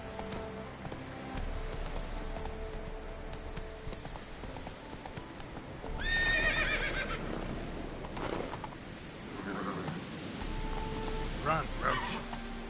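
Roach the horse in The Witcher 3 gallops with rhythmic hoof clip-clops on soft ground and lets out a sharp whinny partway through, over rain and game ambience, while someone talks.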